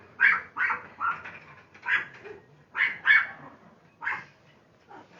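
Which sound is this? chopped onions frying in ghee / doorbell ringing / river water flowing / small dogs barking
small dogs barking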